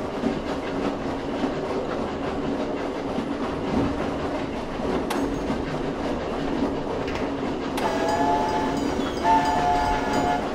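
A train in a Thief fan mission video game rumbles and clatters steadily throughout. Bright horn or whistle blasts sound near the end, with no voices.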